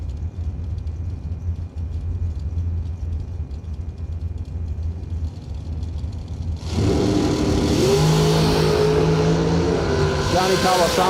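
A drag strip dragster, away at first as crowd noise and murmured talk fill the air, then a sudden loud engine roar surges in and holds, rising in pitch as it accelerates down the track.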